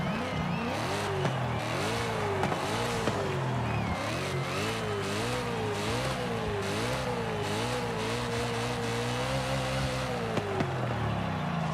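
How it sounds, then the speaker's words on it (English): A car engine in the video game Forza Horizon 5 revs hard and continuously toward 9,000 RPM, pitch climbing and falling in repeated surges, loud and close, with a gear-like whine throughout. "the best thing about this car is the sound that it makes"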